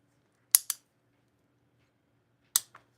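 Scissors snip through a nail form to shape a V for a longer nail bed, giving two sharp, close snips in quick succession and then, after a pause, two more crisp cuts in a quiet room.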